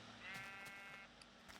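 A Minecraft sheep bleats once in a drawn-out, wavering cry, fairly close and clear over faint background game ambience, with no talking.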